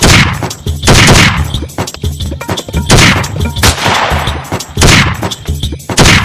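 Gunfire in a Gujarati village comedy skit, a series of loud, sharp shots with booming thuds, roughly one burst per second repeating over several seconds, close and dominant.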